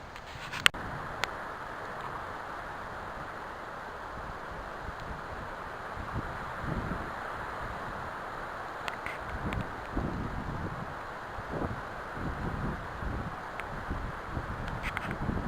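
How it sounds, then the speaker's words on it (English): Strong wind gusting through the trees around a bushcraft shelter site, a steady broadband rush with rising and falling gusts for the whole stretch, no talking. "Wind is really whipping now"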